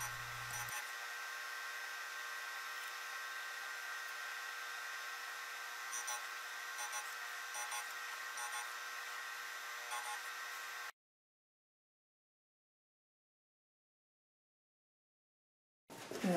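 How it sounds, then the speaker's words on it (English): A disc sander grinding a laminated wooden facet block gives a steady, close high-pitched whine for about ten seconds. It cuts to silence and then restarts briefly at the end. "I next sand the second laminated facet block in the same manner using the disc sander."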